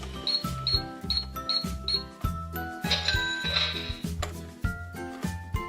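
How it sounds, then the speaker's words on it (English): A Minnie Mouse Bowtique toy cash register plays its electronic sounds: repeated beeping tones over a rhythmic bouncy jingle, then a bright ringing chime, close and clear with no voices. "It's a cash register and it makes realistic sounds."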